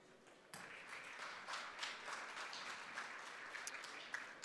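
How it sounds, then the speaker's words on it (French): A live audience claps at a dental conference as two guests are called up, broadband clapping swelling after a soft start and holding steady at moderate distance. "Je vous demande d'applaudir Laurent et Isabelle qui me rejoignent."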